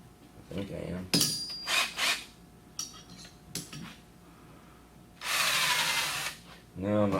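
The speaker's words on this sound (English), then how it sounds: "I'm drilling that piece of oak plug." A drill bores through an oak plug in a gunsmith's machine, with short bursts of whirring and clatter followed by a longer, louder grinding run and a final spin-up.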